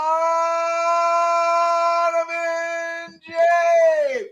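A dog howls excitedly in a long, steady, tonal wail that breaks briefly near the middle, then rises again and trails off, loud and close with no talking over it.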